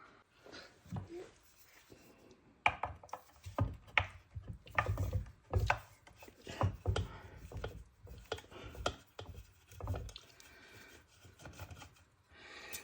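Screws being backed out of a John Deere MaxEmerge planter seed meter during a precision meter upgrade, a series of close, irregular ratcheting clicks and metallic scrapes, with pauses between bursts.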